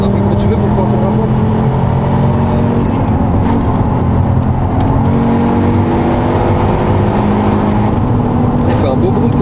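Volkswagen Golf 4 with a V5 engine and aftermarket exhaust silencer, a loud, steady, deep engine drone heard from inside the moving car, with voices talking over it throughout.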